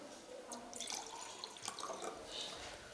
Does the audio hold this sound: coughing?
no